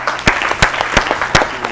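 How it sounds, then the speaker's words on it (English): Audience applause at a national quiz competition, brief and close, with a few sharp, prominent claps standing out over a busy background of many hands. "Please clap for them."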